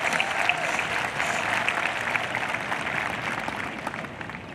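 A large audience at the Brookland-Cayce High School 2022 graduation ceremony applauds the faculty, broad continuous clapping from a crowd in a big space, steady and somewhat distant.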